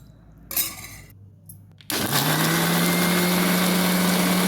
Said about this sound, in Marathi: ते मिक्सरला बारीक करून घेऊया